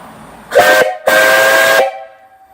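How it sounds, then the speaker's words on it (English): Steam whistle on a live steam boiler sounding two loud, sustained shrieking blasts, a short one then a longer one, close by with no talking. "I'll blow this whistle here,"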